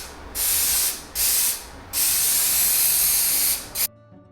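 Three bursts of aerosol spray adhesive hiss, close and loud, the last one longest, ending in near silence with a faint hum, while fitting a new headliner in a VW Jetta Mk6.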